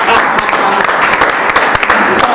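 An audience claps continuously with dense, steady applause that holds at an even level throughout, and voices are faintly mixed in.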